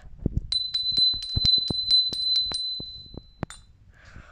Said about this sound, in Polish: Mikołaj, przez to, że ma taką śnieżynkę,